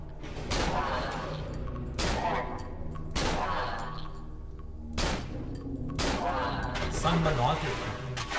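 Gunshots from the survival horror game Cry of Fear: several sharp, loud reports spaced about a second apart, each ringing briefly, with someone talking over the firing.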